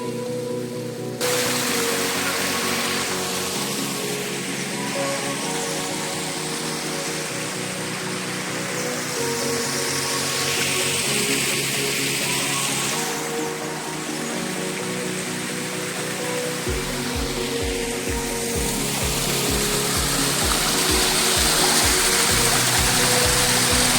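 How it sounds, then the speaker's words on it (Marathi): A small waterfall in a Karnataka forest rushes steadily and loudly without pause, a dense broadband roar of falling water with faint low rumbles near the end, and no voices. "अशातच अचानक कानावर पडला पाण्याचा आवाज आणि समोर उघडले निसर्गाचं सुंदर रूप"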